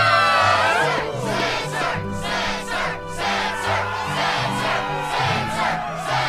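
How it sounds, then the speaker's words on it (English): A crowd cheers at the Struggle championship match in Kingdom Hearts II, with rhythmic waves of massed shouting that rise and fall over steady background music. "Yes, the crowd is fired up"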